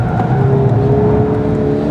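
A Scion FR-S sports car driven hard, its engine note loud and close, sustaining a steady strained roar with no talk over it.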